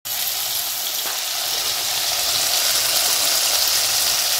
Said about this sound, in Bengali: আর এই সাইডে চিকেনের আলুটা ভেজে নিচ্ছি